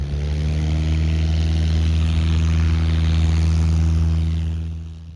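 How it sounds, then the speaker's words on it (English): A tow plane's propeller engine drones loudly at an airfield, a steady low harmonic roar that holds for several seconds and then fades slightly at the end, with no voices. "Tow planes are noisy, and those that live around the airfield rarely appreciate the noise."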